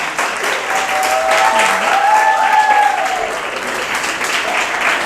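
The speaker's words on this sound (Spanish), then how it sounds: "si le pueden dar un aplauso a Fiore" An audience at a vocational guidance talk applauds as a guest is welcomed, giving a sustained, even roar of clapping with a few voices faintly over it.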